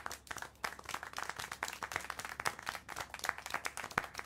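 Clapping in the video game Syberia: The World Before, a run of sharp, irregular hand claps with distinct individual strikes, close and fairly loud, standing alone without talk.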